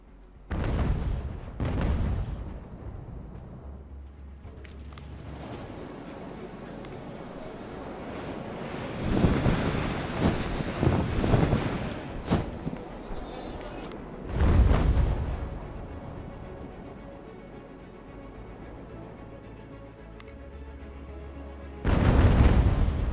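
Naval cannons fire during a sea battle in the video game UGAR, with several heavy booming blasts spaced out over steady wind and rolling waves.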